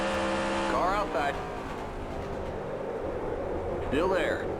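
Next Gen stock cars race side by side at Richmond in NASCAR Racing 2003 Season with custom physics: a steady engine drone with two sharp revving sweeps as cars pass close, while a commentator talks over it.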